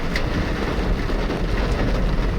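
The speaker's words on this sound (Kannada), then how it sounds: "ಆಗಲೇ ಮಳೆ ಸ್ಟಾರ್ಟ್ ಆಯಿತು, ಜೋರು ಮಳೆ ಸ್ಟಾರ್ಟ್ ಆಗಿದೆ." Heavy rain pours steadily on a vehicle driving along a road to a resort near Sakleshpura, a dense, constant roar of water and road noise with no break.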